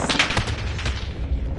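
Gunfire in a PS4 shooting video game: several heavy booming shots in quick succession, loud and reverberant, with no voices over them.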